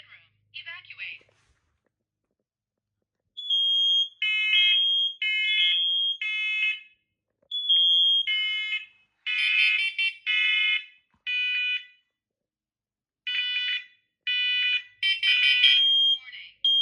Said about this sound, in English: Warning. Evacuate. Smoke in master bedroom. Evacuate.